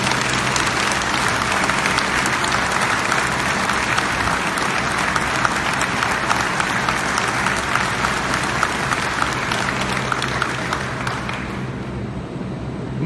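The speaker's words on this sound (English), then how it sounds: "Let's give him a round of applause." Sustained audience applause at a Coast Guard change-of-watch ceremony, dense steady clapping filling the room for about eleven seconds before tapering off near the end.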